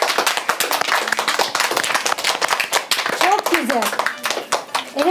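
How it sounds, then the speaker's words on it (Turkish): Children in a studio clap in excitement, close and lively, irregular bursts of many small hands with sharp slaps, while voices call out and chatter over the clapping. "Hadi bakalım alkışlarla belli edin o zaman sevincinizi."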